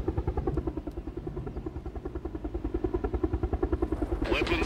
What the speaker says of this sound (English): Weapons armed. MI-24 engaging.